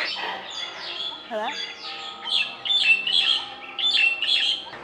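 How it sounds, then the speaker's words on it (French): Many birds squawk and chirp loudly in Chiang Mai, Thailand, in dense overlapping bursts close by, while a voice speaks briefly over them. "Il y a beaucoup d'oiseaux."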